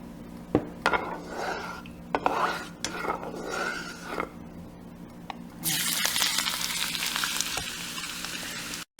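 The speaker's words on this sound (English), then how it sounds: "Just stir it until the ginger turn golden brown." Ginger is stir-fried in a hot pan for chicken liver, giving steady sizzling with scattered utensil scrapes and clacks; the frying swells into a bright, loud hiss in the second half.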